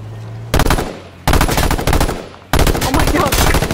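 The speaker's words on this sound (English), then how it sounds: "I shot you clean in the head." Loud automatic gunfire in the video game H1Z1, three rapid bursts of close shots separated by brief gaps, with no talking over them.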